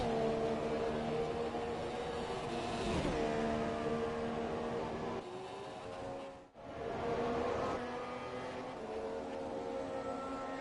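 A Formula 1 car engine in F1 2017 at Bahrain, a steady high-pitched whine that holds loud for most of the stretch, dips sharply once as it pulls away, then resumes, with no talking.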